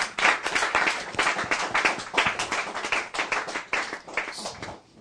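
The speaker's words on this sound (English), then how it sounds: "So please give one more big round of applause to them." Audience applause for two speakers after a talk on raising Krishna conscious children, steady dense clapping from a room of listeners lasting several seconds and tapering at the end.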